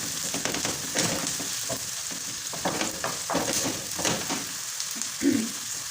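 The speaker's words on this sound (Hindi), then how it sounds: "मैं प्याज को थोड़ा हल्का गोल्डन कर लूँगी" Onions sizzle in hot oil while a spoon stirs them toward light golden, a steady close frying hiss with scraping stir strokes scattered throughout.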